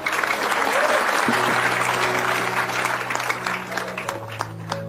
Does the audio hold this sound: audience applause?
yes